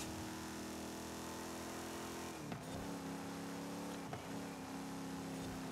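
Dodge Challenger Hemi V8 in Forza Horizon 5, a steady revving engine drone that dips sharply at two gear shifts and then climbs again, moderately loud with no voices.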